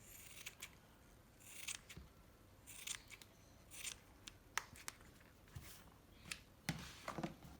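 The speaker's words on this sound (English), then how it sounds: "Cut them into circles like this, they are very elastic." Scissors snip repeatedly through a rubber glove, cutting it into circles, with crisp irregular cuts close up and quiet pauses between them.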